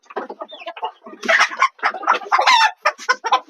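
Layer hens on a rooftop garden cluck in a busy, uneven run of close, fairly loud calls, several birds overlapping with sharper squawks mixed in, and no voices among them.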